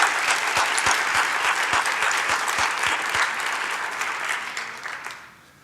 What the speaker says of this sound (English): please join me in another round of applause for our 2021 Hall of Fame and Brendan Hayes